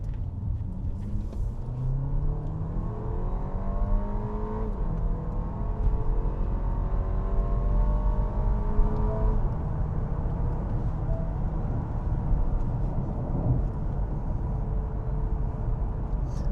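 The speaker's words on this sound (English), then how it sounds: "that was a really effortless acceleration onto highway speeds" A new Audi A6 2.0 e-Hybrid Quattro limousine accelerates onto the highway, heard from inside as a smooth, rising engine drone with gear changes stepping the pitch, over a steady road rumble at moderate loudness.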